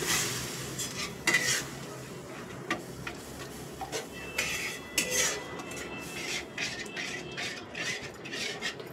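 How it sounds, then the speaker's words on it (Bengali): A spoon stirs semolina and milk in a pan over low heat, scraping and clinking against the metal in a steady close-up rhythm, with faint sizzling underneath and no talk. "দিয়ে আমাকে অল্প আঁচে নাড়তে হবে"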